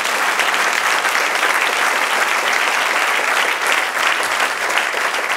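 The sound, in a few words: audience applause in church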